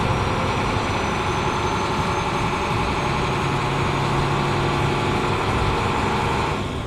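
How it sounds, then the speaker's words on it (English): A truck engine idling just after start-up, a steady heavy diesel rumble with continuous low throb, loud and close from inside the cab, with no talking. "So I just started the truck up so that the buzzer is not going off."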